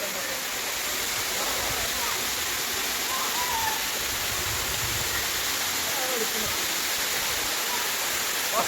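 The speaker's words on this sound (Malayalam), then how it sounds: "വെളിയിൽ നിന്ന് വെള്ളം വീഴുകയാണ്." A steady, loud roar of water tumbling down the Vazhappara Little Kuttalam waterfall fills the scene close by, with faint voices barely audible beneath the constant rush.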